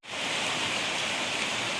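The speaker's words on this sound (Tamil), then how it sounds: "மழை பெய்யுதுன்னு சொல்கிறாங்க" Heavy rain pouring down in Chennai, a dense, steady hiss that stays loud and even throughout with no speech over it.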